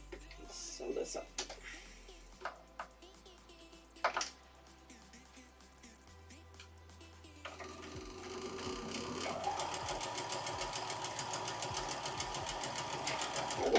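A sewing machine stitching pinned quilt fabric, quiet handling and a voice at first, then a steady rapid mechanical hum and clatter building through the second half, close by.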